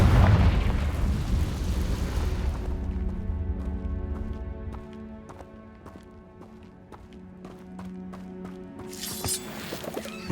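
A Confringo spell explosion in Hogwarts Legacy opens with a loud, close boom and roar that fades into quieter game ambience with faint tapping, then another burst of noise near the end.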